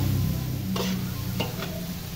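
Pansit noodles stirred in a large wok give a steady frying sizzle with a few scraping, clattering strokes of the utensil against the metal, close and moderately loud.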